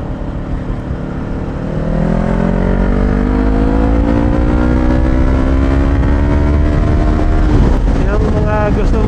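Road traffic flows past with a tricycle passing close by, its engine droning steadily and rising in pitch after a quieter start, with loud continuous vehicle noise and someone talking.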